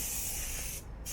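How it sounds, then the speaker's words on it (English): An antibacterial spray gun hisses steadily and close while treating a 2014 Ford Fiesta 1.0 EcoBoost Zetec, the spray cutting out briefly near the end before resuming. "he's also got this spray gun now"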